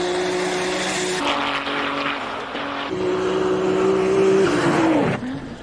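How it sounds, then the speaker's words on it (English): A Formula One race car engine screams at the Simola hillclimb racing event, a loud high-revving whine that rises and holds in pitch, then drops sharply as the car pulls away, with no talking. "I don't know many facilities, at least in South Africa, that would have let that Formula One car run today"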